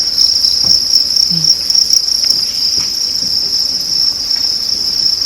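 Steady high-pitched chirring from crickets on a cricket farm fills the clip continuously, a dense insect drone with faint low rustling underneath.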